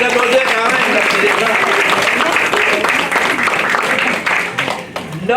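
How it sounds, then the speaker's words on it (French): An audience claps in steady, full applause at an anniversary gathering, a thick continuous patter with voices talking over it, easing slightly near the end. "On peut quand même les applaudir"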